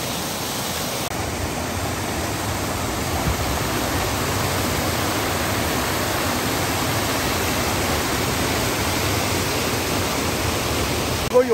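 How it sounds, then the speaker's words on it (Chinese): A strong stream in Anji rushes steadily around a car parked in the water, a loud unbroken broadband roar of flowing water, close and constant with no voices. "我这里水流好大"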